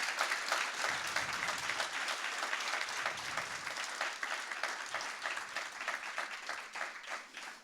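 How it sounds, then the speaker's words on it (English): Sustained applause from a conference audience, many hands clapping densely and evenly for several seconds with no speech over it. "So let's please give them a round of applause."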